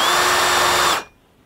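A power drill whines steadily and loudly close by while making start points in a Warn winch housing, then cuts off abruptly and spins down to near silence.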